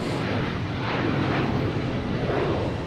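An airplane at Boston Logan Airport roars with a loud, sustained, broadband engine rumble that holds steady and close throughout, with no voices over it.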